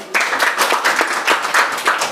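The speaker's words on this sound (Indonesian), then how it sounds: "Tepuk tangan dulu." Classroom clapping from a group of students, a quick burst of uneven, overlapping hand claps with a few pulsing swells, fairly loud and close, with no talk over it.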